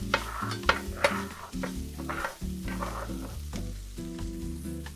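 Spicy sausage stirred and sizzling in a pan for a lasagna, a steady close frying hiss with scraping stir strokes over a continuous tonal background.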